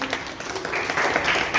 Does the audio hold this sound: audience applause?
yes